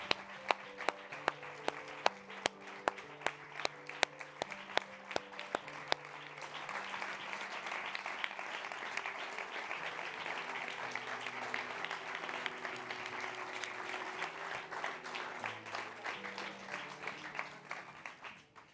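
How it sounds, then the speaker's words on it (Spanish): An audience at a podcast presentation event claps, starting with scattered individual claps that build into steady, sustained applause, with a faint voice under it. "un aplauso por favor para ellos"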